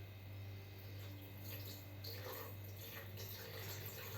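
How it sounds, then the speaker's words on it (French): A little water poured into a Ninja Speedi cooker makes a soft trickling splash over a steady low mechanical hum, faint and continuous for a few seconds. "Je vais mettre un petit peu d'eau"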